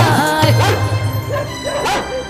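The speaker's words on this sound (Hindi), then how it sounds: "ये कुत्ता मन लगाकर भौंको ही जा रहा है" A dog barks loudly and close in a quick run of several yapping barks mixed with whiny, whimpering tones, continuous over the whole stretch.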